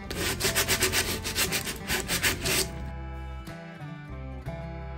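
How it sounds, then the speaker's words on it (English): Wooden bucket being distressed by hand with sandpaper: fast, rhythmic rubbing strokes, close and fairly loud, run for about three seconds, then the scraping stops and quieter tonal sounds follow. "We're gonna take a little sandpaper and we're gonna distress it."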